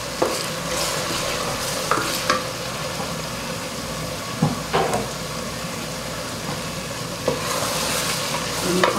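Ground spices, salt, chili and whole spices fry in a pot for chickpea rice (chana pulao), giving a steady close sizzle with occasional stirring scrapes and clinks throughout, with no talking.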